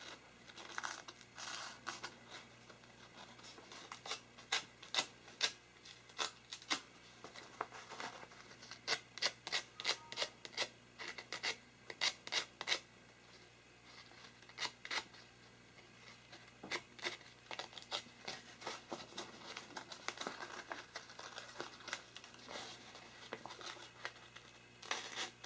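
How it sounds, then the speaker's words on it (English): Light sandpaper scratches and rubs over the metal contacts of a fuse on a sound board, a series of soft, close, irregular scraping strokes in short bursts. "just some light sandpaper just to make sure that, you know, there's good contact there"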